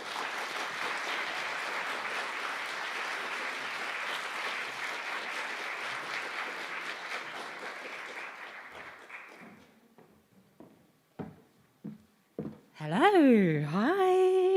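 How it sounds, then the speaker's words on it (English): A cabaret audience at a feminist event during Edinburgh's Radical Book Fair claps steadily for a poet for about nine seconds. The clapping fades to a few scattered claps and thuds, and then a voice begins. "Will you put your hands together,"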